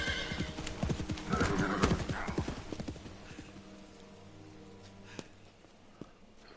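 Horse in the Metal Gear Solid 3 Delta video game, with a burst of clip-clopping hooves and a neigh, then fading to quieter game ambience with a few faint clicks.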